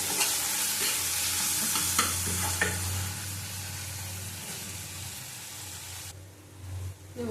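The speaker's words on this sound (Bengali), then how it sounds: "ভালো করে কষিয়ে নেব।" Pointed gourd curry with tomato sautéing and being stirred in oil, a steady sizzle with a few sharp spatula scrapes, close and fairly loud, then quieter toward the end.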